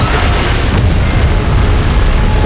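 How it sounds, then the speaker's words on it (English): MechaGodzilla fires a beam that ends in a massive explosion, a loud, sustained roaring boom that fills the whole stretch without letting up. "Is it gonna fire a beam at us?"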